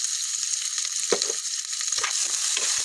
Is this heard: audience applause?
no